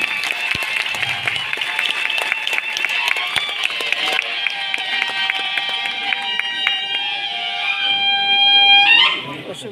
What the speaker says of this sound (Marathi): एकदा जोरदार टाळ्या वाजवूया आपण